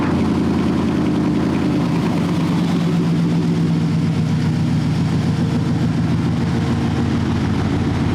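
A 1970 Ford Fairlane 500 resto-mod V8 runs steadily close by, its deep low rumble holding loud and even throughout with a slight rise in pitch partway through, and nobody speaking over it.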